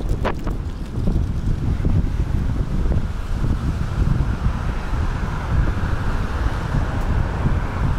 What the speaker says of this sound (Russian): Порывы ветра буду чуть пережидать